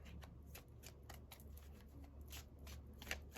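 Tarot cards being shuffled by hand, a quiet run of rapid, papery riffling flicks in an irregular rhythm, close to the listener, with no voices over it.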